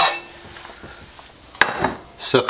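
A spoon scrapes and clinks against a bowl while a mixture is stirred in a kitchen during eggplant parmesan prep, giving a few sharp knocks over soft scraping.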